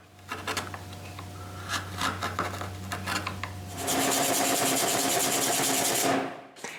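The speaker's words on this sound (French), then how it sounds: "Il faut juste sculpter la transition entre la tête et le corps." Hand-carving a wooden woodpecker sculpture, shaping the transition between head and body: steady close rubbing and rasping strokes on wood, followed by a louder continuous brushing passage that stops abruptly near the end.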